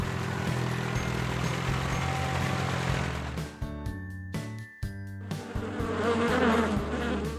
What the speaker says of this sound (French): Flowers grow while bees gather pollen.